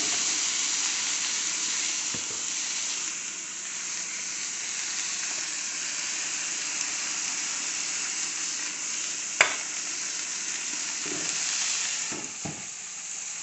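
Spicy chicken breast, rubbed with red chili flakes, fries in oil in a pan with a steady, close hiss. A few soft clinks and scrapes break through now and then, with no talking.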